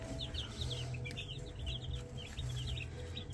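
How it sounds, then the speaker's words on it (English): Meat chickens cluck and chirp continuously at close range, a busy flock murmuring over a low steady background hum. "So these guys are meat birds."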